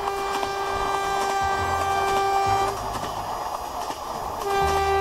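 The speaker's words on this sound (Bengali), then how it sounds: "এমন সময় ঘর ঘর করতে করতে ট্রেনটা বেরিয়ে যায়।" A train departs with a deep, steady rumble of wheels and wagons, with a sustained horn tone sounding over it for most of the passage, loud and close.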